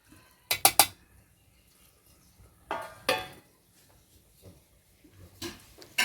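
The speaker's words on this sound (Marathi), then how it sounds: "थोडंसं वाफवण्यासाठी किंवा चांगलं शिजण्यासाठी आपण त्याच्यावर झाकण ठेवायचं आहे" A metal lid set onto a pot of kolim (acetes) curry cooking over a wood-fired stove, with sharp clanks in three separate bursts, close and distinct against a quiet background.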